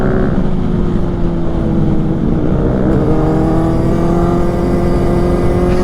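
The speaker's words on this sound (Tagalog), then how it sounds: "Pakalakas ng Honda Click na to guys." A Honda Click motor scooter, with a passenger aboard, revs loud and steady up close, its engine drone holding strong and unbroken throughout.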